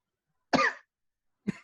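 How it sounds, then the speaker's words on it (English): Two coughs into a hand, the first a fuller hacking burst and the second a short, softer one about a second later, close and muffled with silence around them. "Just kind of coughing into my hand."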